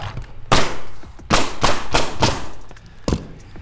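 Roofing nails being driven by a nail gun into starter strip shingles along the gutter edge: five sharp, loud, close bursts at irregular intervals, with short quiet gaps between them.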